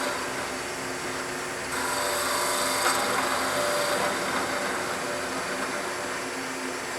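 A wood lathe spins a pen holder blank while a skew chisel's long point parts it off, producing a steady whirring hum that grows louder and scratchier partway through as the cut bites, with no talking.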